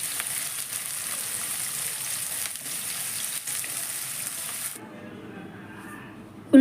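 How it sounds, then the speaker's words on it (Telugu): Onions and green chillies frying in hot oil make a steady close sizzle with a faint crackle, which cuts off abruptly into quiet room tone near the end. "ఉల్లిపాయల్ని దోరగా బ్రౌన్ కలర్ వచ్చేంత వరకు ఫ్రై చేసుకోవాలి"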